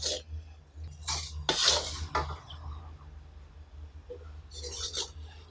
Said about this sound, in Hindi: चम्मच हिलाते रहना है नीचे